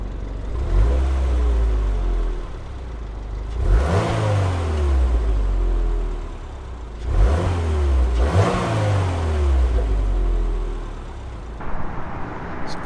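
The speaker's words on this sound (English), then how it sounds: "let's see how this thing sounds on the outside." A 2022 Subaru WRX heard from outside as its engine revs in several rising and falling bursts over a steady idle rumble. The sound is loud and close, with pauses between the revs.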